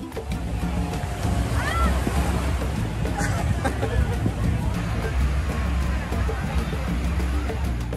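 Steady ocean surf at a beach in Balneário Camboriú, Brazil, washes and rumbles continuously, with wind buffeting the microphone and faint voices in the background.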